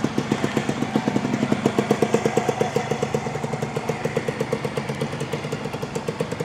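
A 1988 Yamaha TDR80 two-stroke motorcycle engine runs steadily near by, with a rapid even ticking pulse and slight rises in revs, heard alone without talk.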